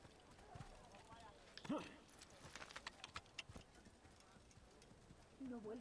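Horse hooves clip-clopping in Assassin's Creed, an irregular patter of light steps mixed with game ambience, while someone talks over them.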